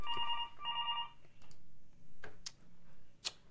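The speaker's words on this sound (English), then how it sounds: "My phone's ringing." A telephone rings in two electronic warbling bursts, fairly close and clear, followed by a few faint clicks and handling noises in a quiet room.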